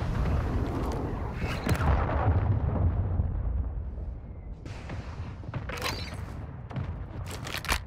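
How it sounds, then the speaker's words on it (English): Heavy rumbling blasts and debris in Call of Duty: Modern Warfare II as a cruise missile strike lands, a sustained loud boom that fades, followed by sharper bursts and pops later on. "Hostiles launched a cruise missile."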